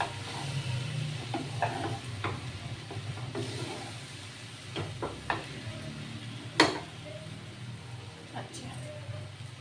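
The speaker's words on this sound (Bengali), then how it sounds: "এটা আমি সুন্দর করে এবার ভাজা ভাজা করছি আলু পেঁয়াজ রসুন আর শুকনো লঙ্কা" Potatoes frying with onion, garlic and dried chili in a pan: a soft, steady sizzle with scattered scraping and stirring clicks and one sharper clatter, under someone talking.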